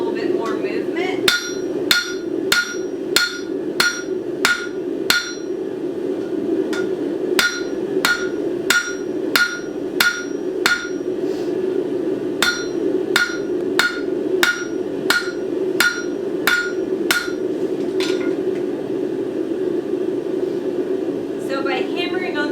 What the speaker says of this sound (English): So by hammering on the corner